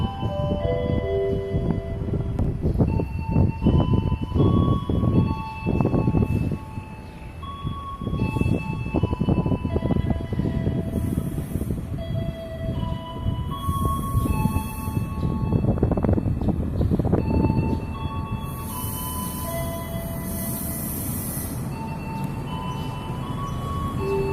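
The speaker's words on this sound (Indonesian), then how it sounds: "akan segera masuk kereta Lebak Anai dari stasiun BIM dengan tujuan akhir stasiun Kayu Tanam" The Lembah Anai train arrives at Duku station with a loud, rumbling diesel roar and clattering wheels, and several brief horn-like tones are heard as it rolls in.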